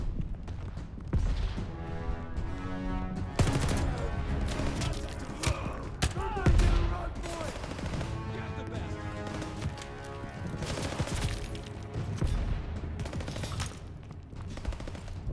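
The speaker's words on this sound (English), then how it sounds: "I wonder if this is a Japanese machine gun" Dense bursts of rapid automatic machine gun fire in the World War II video game Call of Duty: Vanguard rattle almost continuously, mixed with crashes and other battle noise, loud and busy throughout.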